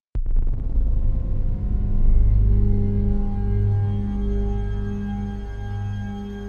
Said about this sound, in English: We'll make the reverb super big as well.